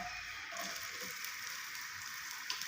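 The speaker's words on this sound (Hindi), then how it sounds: "प्याज को हम अच्छे से फ्राई कर लेंगे।" A sliced onion frying in hot oil in a kadhai gives a steady, bright sizzle with fine crackling. It holds at an even, moderate level throughout, with no talk.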